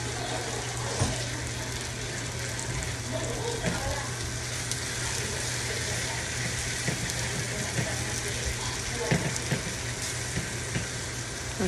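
Rohu fish frying in a pan with a little water added, a steady close sizzle with a running, watery hiss throughout and occasional small pops, with faint talk in the background.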